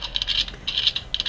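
Quick bursts of light plastic clicking and scraping as a collectible toy Progrise key is turned, close and fairly soft, in three short clusters with no talking.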